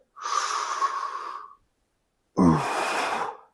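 Two long, strong breaths during a glute bridge exercise: a drawn-out exhale of about a second and a half, a pause, then a second forceful breath, close and alone with no talk.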